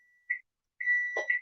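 A kitchen timer beeps when the bacon finishes cooking, giving a short electronic beep, then a pause, then a longer beep run joined by a brief clatter, all in a quiet kitchen.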